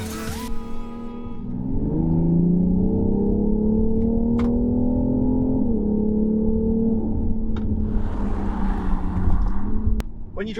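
BMW X3 M40d diesel engine in sport mode, a steady, moderately loud drone heard from inside the cabin as the car pulls in a locked-down manual gear, pitch rising slightly, then easing and climbing again.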